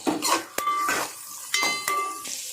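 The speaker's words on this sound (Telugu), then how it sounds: "ఇప్పుడు అన్నిటిని బాగా ఫ్రై చేసుకోవాలి" Beans, carrot, onion and capsicum tossed in a pan for veg fried rice, with a few sharp utensil clinks and scrapes in short bursts over a faint sizzle, close and fairly loud.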